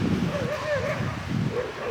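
A dog yips and whines repeatedly, with short bark-like calls rising over steady wind noise on an outdoor trip in Alaska.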